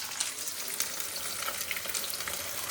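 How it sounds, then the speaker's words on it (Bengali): Pakoras fry in hot oil with a steady bright crackle and scattered sharp pops, close and continuous on their own, with no talk. "নাও পকোড়াটা ভাজবো, মানে ভাজছি"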